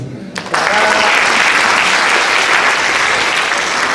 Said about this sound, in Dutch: Ja, dat is best een applaus weer